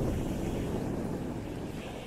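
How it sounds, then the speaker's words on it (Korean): Strong sea waves at Nha Trang, Vietnam, during an evening walk: a continuous, heavy roar of surf mixed with wind buffeting the microphone, steady and loud throughout, with no voices. "여기는 파도가 세요."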